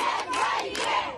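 An angry crowd of protesting women in Dagestan confronting police shouts and yells together in loud, overlapping bursts of raised voices, close and agitated.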